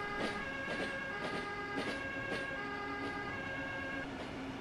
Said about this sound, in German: Da hört ihr schon Martinshorn, Blaulicht.